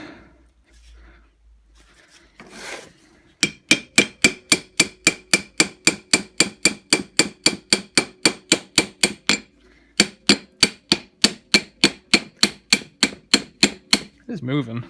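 A brass hammer strikes a rusted, seized Pratt Burnerd three-jaw lathe chuck in a long run of sharp, evenly spaced metallic blows, with a brief pause partway through before the rapid hammering resumes, close and loud.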